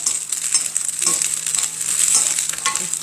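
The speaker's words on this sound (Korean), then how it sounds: "지금 식용유 한 2스푼 넣고 볶고 있는 거예요. 마늘종만 넣고." Garlic scapes stir-frying in about two spoonfuls of cooking oil, a steady bright sizzle with soft scraping stirs, close and continuous with no talk.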